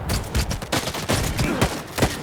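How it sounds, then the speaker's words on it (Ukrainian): A loud, rapid burst of gunfire from the video game S.T.A.L.K.E.R. 2, several shots cracking in quick succession with no pauses. "Три постріла треба на середньому рівні з непрокачаного."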